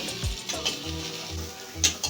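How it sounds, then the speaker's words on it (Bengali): Rice and lentils sizzle in a pan, with occasional scraping and clicking as a spoon stirs them. "এখন চাল আর ডালটাকে দু থেকে তিন মিনিট সময় ধরে ভাজা ভাজা করে নিতে হবে"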